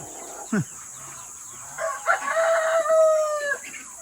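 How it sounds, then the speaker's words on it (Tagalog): A large rooster crows nearby, a drawn-out call rising and falling over a steady high hiss, preceded by a brief sharp knock. "kita niyo, laking manok niyan"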